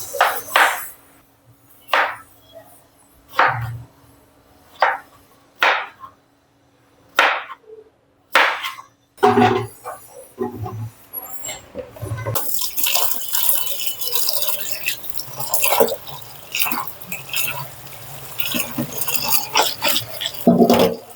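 Knife slicing a bottle gourd very thinly on a board, a series of sharp, evenly spaced chopping taps up close, followed by a busier stretch of kitchen clatter and scraping.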